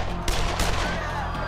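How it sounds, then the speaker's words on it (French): Gunshots ring out at the 1981 attack on Pope John Paul II as he moves through a crowd of faithful: a couple of sharp, loud bangs in quick succession over a low, droning music bed. "de terribles coups de feu retentissent"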